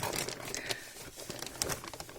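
Plastic parcel bag crinkling and rustling during the unboxing of a parcel, soft, close, irregular crackles in quick bursts with no voices.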